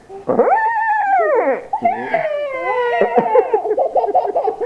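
A person imitates a horse's whinny with a long, wavering high-pitched cry, followed by shorter breathy neighing sounds and a trailing vocal flutter.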